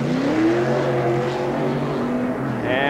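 A stock race car at the 1990 Transouth 500 pulls away from a pit stop for fuel, its engine rising in pitch as it accelerates, with steady racetrack noise in the background.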